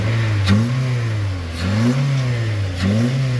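A Toyota Avanza's car engine revs up and down three times in a steady rhythm after a noisy-engine fix, each rise and fall of pitch clear and close, with no talking.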